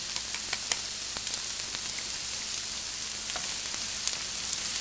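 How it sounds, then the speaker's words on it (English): Finely minced ginger and garlic sauté in a pan over medium-high heat, giving a steady close sizzle with scattered small pops and crackles throughout. "I'm going to saute this for about 5 minutes."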